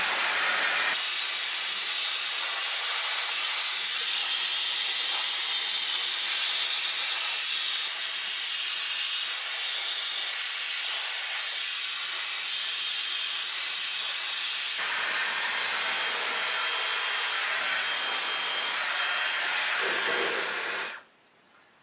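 A Dyson Airwrap hair styler blows a strong, steady airy hiss up close, shifting in tone partway through before cutting off near the end.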